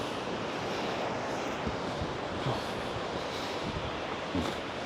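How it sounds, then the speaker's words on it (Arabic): Ocean surf at Pismo Beach, California: a steady, broad wash of breaking waves mixed with wind buffeting the microphone, continuous and fairly loud, with no talking. "البحر"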